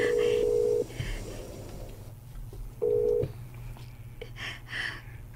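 Telephone keypad dialing for a call: two steady DTMF tone bursts, each under a second, separated by quieter room noise with faint background sounds.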